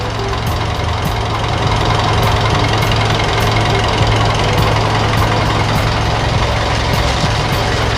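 A car engine running steadily at idle during an oil check, with a continuous rough, knocking drone and a faint repeating tick, loud and close with no talking.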